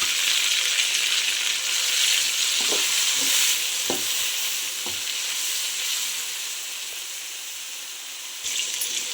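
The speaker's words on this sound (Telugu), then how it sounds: "అందులో మనం కట్ చేసుకున్న టమాటా వేసుకోవాలి." Chopped tomatoes hit hot oil with onions and green chillies for a village-style chicken curry, a steady loud sizzle broken by a few sharp scrapes of a stirring spoon against the pan, with no talking.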